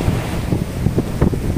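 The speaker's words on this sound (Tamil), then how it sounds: "அப்படியே பாருங்கள் இந்த கடல் அலையை நான் ரசிச்சுட்டு" Sea waves wash onto Velankanni beach with a low rolling surf rumble, buffeted by strong wind noise on the microphone over a short stretch with no talking.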